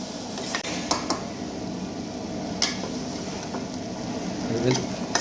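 Prawns are sautéed lightly in a pan with a low, steady sizzle under repeated stirring scrapes and occasional clinks of a utensil against the metal, close to the listener and without talking.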